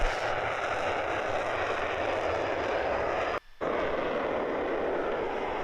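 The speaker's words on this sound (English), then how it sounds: "Takeoff time right here." Steady, loud roar of an airplane's engines as it takes off at sunset, a broad continuous rumble with one brief dropout partway through.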